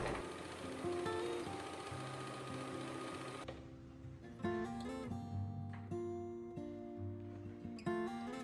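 A sewing machine stitches fabric covers in a home setting, with a steady whirring run for the first few seconds followed by short stop-start bursts and quieter mechanical clicks.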